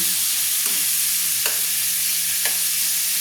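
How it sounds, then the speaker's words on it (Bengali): Prawns fry briefly in hot oil in a pan, giving a constant close hiss and sizzle. A few soft scrapes of a spatula stir them at regular intervals. "তো আমি অল্প করে চিংড়ি মাছটাকে ভেজে নেব।"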